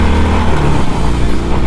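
A 2020 Harley-Davidson Sportster 48 with a 1200 engine accelerates hard in second gear, a loud, close, continuous engine roar with no voices.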